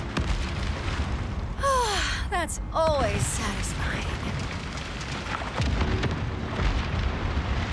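Detonator blast in the video game Borderlands 4: a sustained booming, rumbling explosion with crackling bursts, running under steady talk and excited voices throughout.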